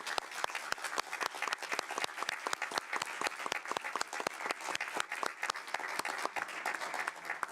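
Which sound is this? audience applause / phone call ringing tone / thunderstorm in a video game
audience applause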